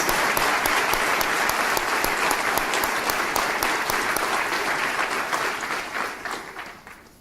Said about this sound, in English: Could we just give those young men for their courage a round of applause?